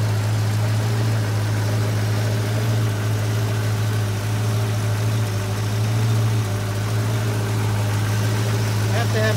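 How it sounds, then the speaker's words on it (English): A Ford 289 V8 with one cylinder not firing idles in a steady, uneven drone with a deep hum, close and loud throughout, with no pause in the running. "I can kind of give you an indication of what it's like if one cylinder isn't firing"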